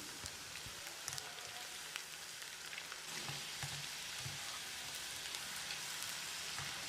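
Chicken pieces for dhaba-style dragon chicken deep-fry in oil, giving a soft, continuous bubbling sizzle with faint crackles, fairly quiet and unbroken.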